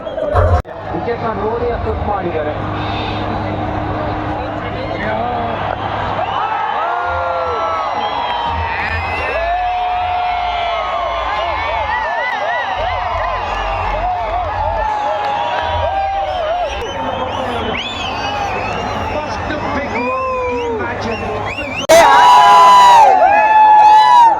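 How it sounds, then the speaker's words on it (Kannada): A packed IPL fan park crowd in Mysore watching RCB play CSK roars steadily, with whoops, cheers and dense babble throughout, swelling louder in a final burst of cheering. "ಸೊ ಫುಲ್ ಕ್ರೌಡ್ ನೋಡಿ ಮೈಸೂರಲ್ಲಿ ಹೌಸ್ಫುಲ್ ಆಗಿದೆ"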